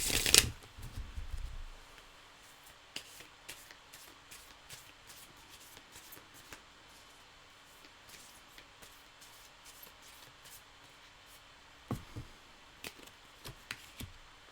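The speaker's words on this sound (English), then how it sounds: "Just as I'm shuffling these cards." A deck of tarot cards is shuffled close up and quietly, with a loud riffle at the start followed by soft intermittent sliding and flicking of cards in a calm room.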